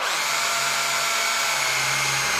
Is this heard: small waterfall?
no